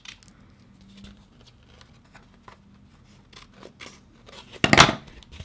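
Scissors trim the overhanging edges of a mini album cover in a few soft, close snips at an unhurried pace, ending in one louder, sharper cut.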